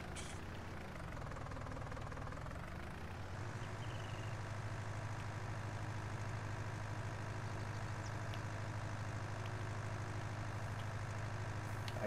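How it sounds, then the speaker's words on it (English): An old tractor engine idles steadily with a rhythmic tapping knock, close and continuous, its rumble settling lower after the first few seconds. "The sound, just that old tractor tapping."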